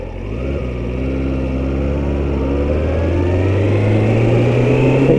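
A Kawasaki Ninja 636 motorcycle engine revs up under throttle, a loud, close, rising mechanical drone that climbs steadily in pitch with no talk.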